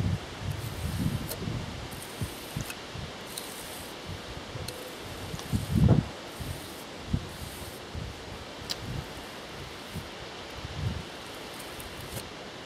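Strong outdoor wind gusts and rustles leaves around a spot where fire bricks for a pottery kiln are being made, with intermittent buffeting bursts against the microphone and a steady airy background.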